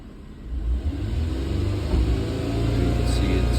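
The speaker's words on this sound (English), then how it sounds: "we're gonna increase the RPM partially" A car engine climbs from idle as the throttle is partly opened, a deep rumble rising and holding at a higher steady pitch, loud and close, with brief talk underneath.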